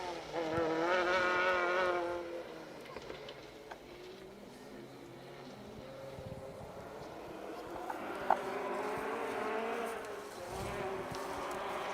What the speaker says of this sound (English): There we go, that was the Cadet GTE of Adam Milner.